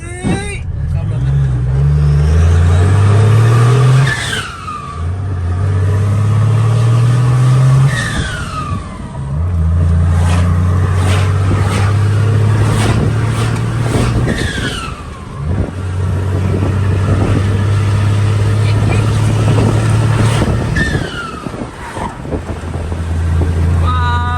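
A car fitted with a new turbo drives hard on a dirt surface, its engine droning loudly and revving up repeatedly through gear changes over a steady roar of wind buffeting the microphone.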